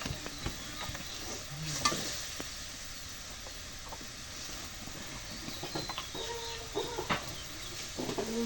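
Garlic added to a hot frying pan sizzles steadily throughout, with occasional stirring scrapes and clatters, while a chicken clucks faintly in the background.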